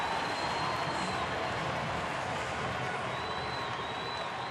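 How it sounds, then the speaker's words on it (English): Baseball crowd at a Pittsburgh at Milwaukee game giving a sustained ovation to Nyjer Morgan, a steady dense wash of cheering and applause filling the whole stretch without pause. "Nyjer Morgan getting a big ovation from his crowd"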